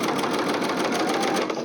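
A sewing machine stitching a quarter-inch seam on fabric for a project bag, a fast, steady mechanical whir with an even rapid stitch rhythm, close and continuous for the whole short stretch.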